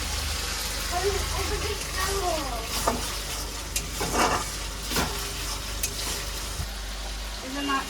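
Chicken biryani masala stir-fried in a pan, a steady broadband sizzle with scraping stir strokes at irregular intervals, fairly close, while a voice talks intermittently over it.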